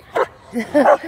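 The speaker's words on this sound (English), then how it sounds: "Sorry about the dog." A couple of quick, close dog barks or yips in rapid succession, short and sharp, at an outdoor college Halloween night event.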